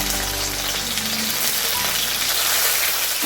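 Round slices of bitter gourd sizzle in hot mustard oil in a wok, a dense, steady crackling hiss close up that continues without a break.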